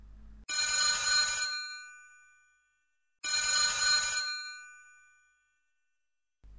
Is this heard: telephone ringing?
yes